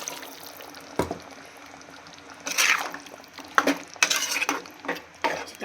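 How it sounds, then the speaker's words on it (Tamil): Water is poured into a mixer grinder jar in a home kitchen during chicken kuzhambu preparation, with a few short splashing, clattering bursts and quieter gaps between them. "நான் வந்து ஜாரை கட்டிட்டு தண்ணி ஊற்றுறேன்."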